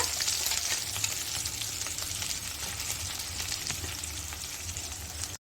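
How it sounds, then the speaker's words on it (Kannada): Ground raw mango, coconut and masala sauté in oil in a kadai, giving a steady close sizzle with light stirring scrapes throughout. The sizzle cuts off abruptly at the very end. "ಒಂದು ಎರಡರಿಂದ ಮೂರು ನಿಮಿಷ ಹೀಗೆ ಕಡಾಯಲ್ಲಿ ನಾವು ಇದನ್ನು ಬಾಡಿಸ್ಕೋಬೇಕಾಗತ್ತೆ"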